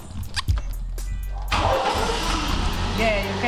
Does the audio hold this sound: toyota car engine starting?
yes